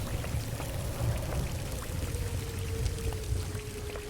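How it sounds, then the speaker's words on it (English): Blood pours steadily in a video game, a continuous gurgling stream with a faint tone sliding slowly downward as the vessel fills, close and unbroken. "I'm hearing like water. Oh, you're just straight pouring blood."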